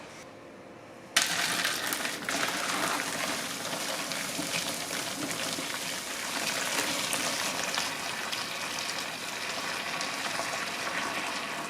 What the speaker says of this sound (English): And now comes the boiling water.